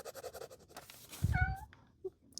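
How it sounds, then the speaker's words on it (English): A pet cat meows once, short and rising, somewhere in the room behind a desk, following a few moments of soft indistinct noise. "You hear my cat in the background?"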